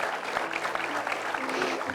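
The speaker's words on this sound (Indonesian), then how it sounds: "Sekali lagi boleh tepuk tangan untuk Mbak Yes." An audience at an Indonesian stage show applauds for a woman who has just presented a gold necklace to her mother. The clapping is dense and steady at close range, with faint voices underneath.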